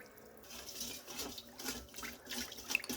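Water pours into a large mixing bowl for homemade bread dough, a steady splashing stream with shifting trickles running close by for a few seconds, with no voices.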